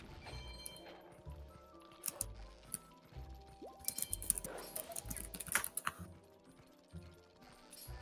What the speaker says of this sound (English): All I hear is typing.